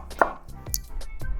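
A knife roughly chopping onion and garlic on a board for chorizo one-pot pasta, a few uneven close thuds in quick succession with no talk.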